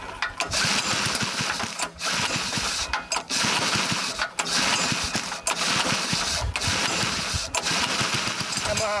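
Old Ford Falcon compressor engine being pull-started, a dense mechanical clatter and whir running loud and steady with brief dips between pulls, close up.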